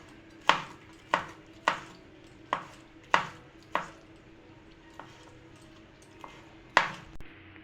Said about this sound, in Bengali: এবার চপিং মোডের মধ্যে রেখে আমি চিংড়ি মাছটাকে এরকম কুচি কুচি করে কেটে নিচ্ছি।